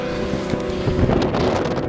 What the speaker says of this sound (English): You won't hear any of this because it's windy as hell.